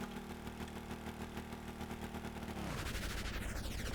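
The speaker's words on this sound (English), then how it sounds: "Throttle, start your engines." A ship's engine in Stormworks runs steadily with a droning, rapid mechanical pulse, then throttles up into a louder, rising roar as it surges to full power, with no talk over it.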